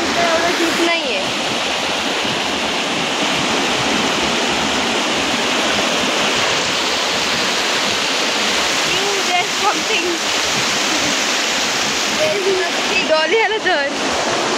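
Water from a stream in Khed, Konkan, flows over rock with a steady, broadband rushing hiss through the whole stretch. People talk over it in places.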